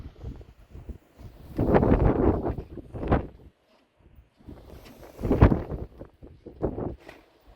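Outdoor wind buffets the microphone in uneven gusts, with loud rumbling bursts separated by brief lulls and near-silent gaps, and no talking.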